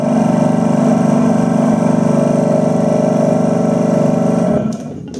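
An Alcatel 2015 Pascal Series rotary vane vacuum pump runs loud and close with a steady, buzzing mechanical drone that drops off near the end, followed by a few faint clicks and no talking.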